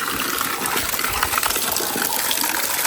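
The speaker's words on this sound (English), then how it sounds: "Check this water out." Water at the ancient city ruins of Sagalassos rushes and gushes in a loud, continuous splashing flow, close by and steady throughout, with no talking.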